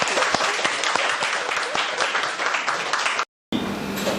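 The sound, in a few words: audience applause for a speaker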